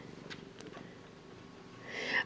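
A house cat purrs close by, a low, steady rumbling throb running throughout, with a brief brighter swell near the end and no talk.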